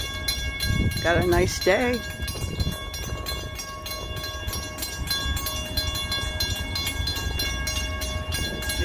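A CT rail or Amtrak passenger train rolls through Windsor station in Connecticut, a continuous rumbling passage with steady tonal whine, while someone speaks briefly over it near the start.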